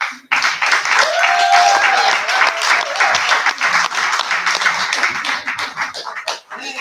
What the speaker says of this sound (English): I want y'all to give a big round of applause for Out the Box Kel.